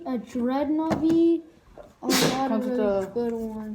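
A single sharp sneeze bursts out between stretches of close, casual talk during a trading card unboxing.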